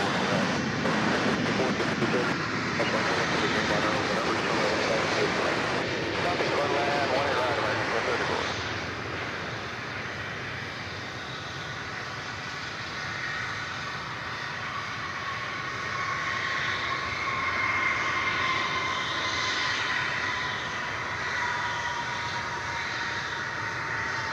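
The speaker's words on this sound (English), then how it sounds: "here comes the Dreamliner from South Korea." Boeing 787 Dreamliner from South Korea arriving at DFW Airport: a loud, broad jet engine roar that eases into a steadier rumbling whine as it passes, with people talking throughout.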